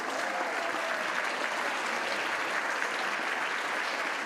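An audience at a demo day event keeps up a dense, even wash of applause from start to finish, with steady volume and no break.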